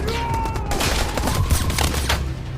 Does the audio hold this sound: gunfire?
yes